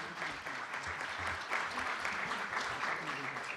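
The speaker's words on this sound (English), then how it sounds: "Please give them a round of applause." Audience applause for a panel at a policy forum, continuous dense clapping from a room full of people, fairly quiet and even throughout.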